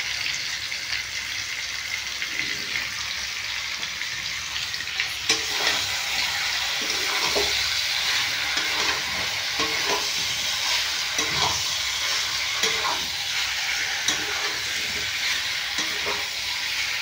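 Spices sautéed with paneer masala in a hot pan, a continuous loud sizzle with repeated scraping clicks of a spatula stirring the mixture.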